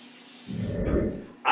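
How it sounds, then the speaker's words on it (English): A short hiss of an aerosol nonstick cooking spray onto chicken in a skillet, a quick burst lasting under a second, followed by a soft clatter. "I'm going to spray the top of the chicken"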